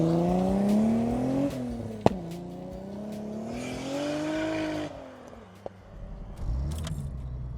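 Turbocharged VW Corrado fitted with a limited-slip differential fires up: a brief starter crank and sharp catch settle into a rising, wavering idle that revs up and down, close and loud, with a couple of sharp clicks.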